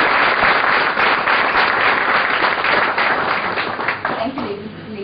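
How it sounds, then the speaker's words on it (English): Loud, dense applause from an audience opening a leadership series session at XLRI Jamshedpur, a continuous roar of clapping that thins out near the end as a voice begins to speak. "let us begin today's session of the XLRI Leadership Series with a big round of applause"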